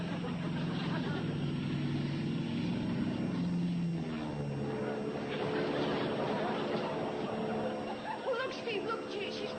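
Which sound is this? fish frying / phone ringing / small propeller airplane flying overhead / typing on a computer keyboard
small propeller airplane flying overhead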